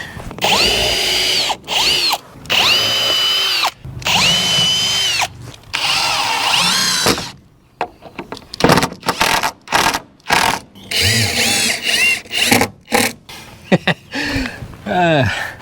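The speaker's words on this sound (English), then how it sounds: "Let's pre-drill the rest of these." A power drill pre-drilling green wood siding whines in repeated bursts of a few seconds each, close by, then shorter intermittent spurts with brief pauses and some nearby handling noise.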